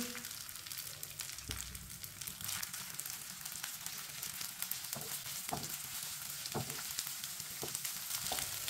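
Leftover rice and eggs sizzling and frying in a pan as a spoon stirs through them, a steady crackling hiss with scattered scraping strokes close by.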